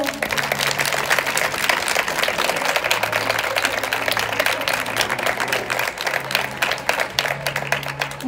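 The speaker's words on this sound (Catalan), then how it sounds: "Aleix Abella, un fort aplaudiment, sisplau." Sustained applause from a crowd at a sixth-grade graduation ceremony, dense clapping continuing steadily throughout with a few cheers and voices mixed in.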